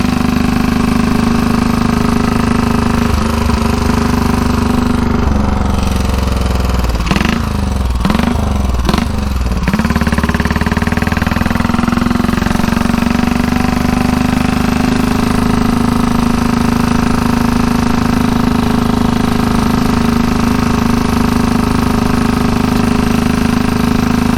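A 1934 Velocette KTT single-cylinder motorcycle running steadily while ridden on the road, a loud continuous engine drone with a brief cluster of gear changes or throttle blips early on before settling back to a constant pace.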